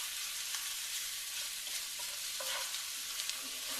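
Minced garlic softens in a pan with a steady, close sizzle and faint scraping and stirring clicks, and no one speaks.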